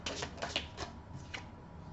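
Tarot card drawn from a deck, a few quick soft papery slides and taps close by, faint, with no talk.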